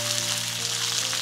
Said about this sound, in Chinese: 锅里下刚才炸蒜子的油哈，鱼肉给它下锅，半煎半炸哈